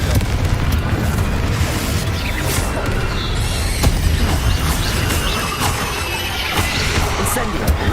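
A booming fire-spell explosion in Hogwarts Legacy, with heavy crashes and bursts over continuous game noise and some talk mixed in.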